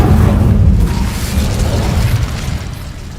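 Incendio fire spell blast in Hogwarts Legacy, a loud, deep, rumbling burst that roars for several seconds and slowly subsides, with no talk over it.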